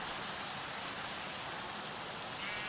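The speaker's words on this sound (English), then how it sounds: "hopefully also get rid of the rain" Steady rain falls in the video game Minecraft, an even, dense hiss that runs unbroken throughout with no voices.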